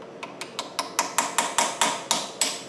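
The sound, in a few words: tack hammer tapping a chisel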